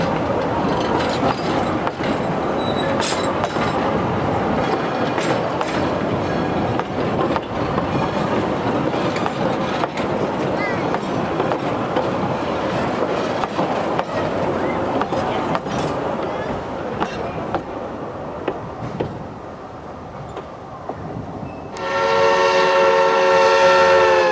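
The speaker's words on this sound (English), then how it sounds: "The train crosses Campo Seco Road as it continues toward Jamestown for a water stop." A Sierra Railroad steam train runs tender first past Campo Seco Road toward Jamestown, a steady clattering rumble of wheels and cars rolling by, ending with a loud sustained whistle blast, with a voice talking at times.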